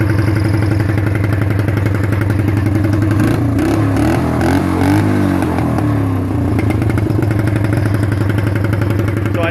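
A Suzuki LT 125 engine fed by a Briggs & Stratton fuel pump runs steadily, a loud close chugging idle with a brief rev and clatter in the middle.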